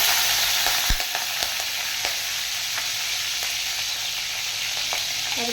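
Chopped green chilies fry in hot oil, giving a loud, steady sizzle close by with a few sharp pops and stirring clinks, no voices.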